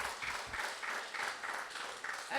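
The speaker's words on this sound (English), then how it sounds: "Give the panel a round of applause." A healthcare town hall audience applauds a panel, a faint, steady patter of clapping from a room heard at some distance.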